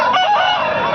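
An aseel rooster crows loudly and close by at a poultry market in Kundarapalli, Krishnagiri District, a brief strained call.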